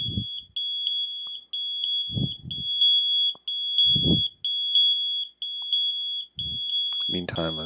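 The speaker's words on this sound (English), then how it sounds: "We're aware of that alarm." An electronic alarm beeps in a steady repeating high-pitched pattern indoors while someone speaks in short bursts beneath it.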